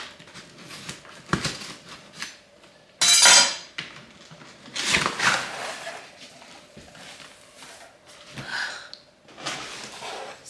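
A 4-piece cookware set with lids is unpacked from a big box, with cardboard rustling, crinkling packaging and a few light clanks of pans and lids, close up and alone.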